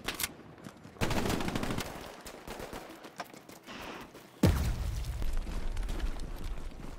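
Gunfire in the video game Hell Let Loose: loud, sharp bursts of rifle and automatic fire with heavy booming reports, coming in clusters with short quieter gaps in between.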